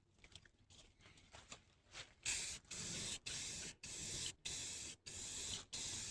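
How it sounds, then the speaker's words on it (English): Short bursts of hissing spray from an aerosol can of black paint sprayed onto a table, about six in a row with brief gaps, loud and close after a few softer crackles at the start. "I'm going to spray paint all jet black"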